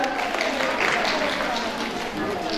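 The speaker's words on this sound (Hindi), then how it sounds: "जोरदार तालियों से इनका स्वागत।" Audience applause at an International Women's Day ceremony as anganwadi workers are called to the stage, a continuous wash of many hands clapping at moderate level with some voices mixed in.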